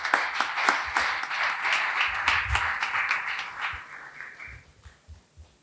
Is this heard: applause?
yes